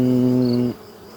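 Close, steady honeybee buzzing with a strong hum that cuts off abruptly after about a second, leaving quiet, as bees are shaken into a hive box.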